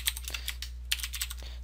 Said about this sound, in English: if you're going to hear the metallic tapping in the back, it's because I got a new keyboard. It's the Razer Black Widow